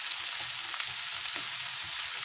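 Korean garlic chives stir-fry in a hot oiled pan, giving a steady, close, loud sizzle with faint stirring scrapes, and no voices over it.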